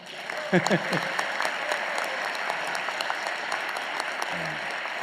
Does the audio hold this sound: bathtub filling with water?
no